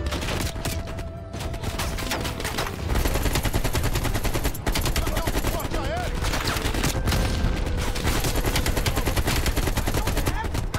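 Dense, sustained automatic gunfire from the Call of Duty Cold War campaign on PS5, loud and continuous throughout with rapid overlapping bursts and occasional voices underneath.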